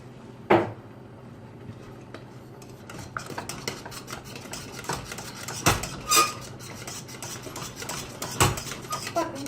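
A spoon stirring margarine and flour cooking together in a pot, giving irregular scraping and clinking knocks against the metal over a soft background bubble, several sharp louder taps standing out.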